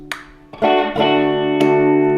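Electric guitar with coil-tapped push-pull pickups played through the bridge humbucker: a few loud, sustained chords ring out, each freshly strummed attack layering over the last, with no talking.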